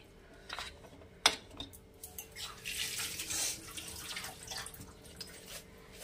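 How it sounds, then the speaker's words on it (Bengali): Hands washed under a running kitchen tap while cooking green chili chicken, water splashing and trickling in uneven bursts with a sharp clink of a dish or utensil, close and fairly quiet, no talking. "হাতটা একটু ধুয়ে নেই, একটু অপেক্ষা করুন।"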